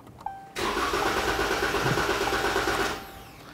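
A 2011–2023 Dodge Charger 3.6L V6 cranks steadily for about two and a half seconds with the fuel pump fuse pulled to depressurize the fuel rail, giving a close, even, rhythmic whirring churn that stops abruptly.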